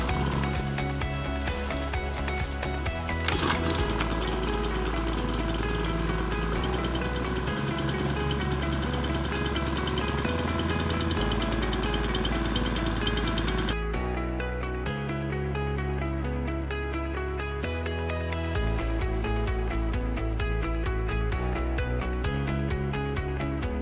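A Waterax Mini-Striker and a Honda WX15 portable water pump run side by side, a loud steady mechanical engine drone with rapid rhythmic knocking; the tone shifts abruptly partway through as one engine changes.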